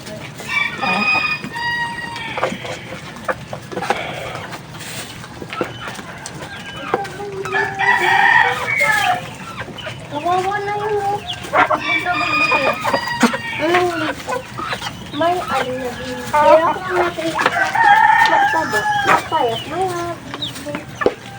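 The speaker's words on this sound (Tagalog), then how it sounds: "Huliin nyo yung sisiw." Chicks and chickens on a poultry farm cluck, peep and crow in an ongoing chorus, close and fairly loud, while people talk over the birds.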